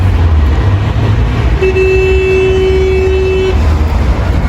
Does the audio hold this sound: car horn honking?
yes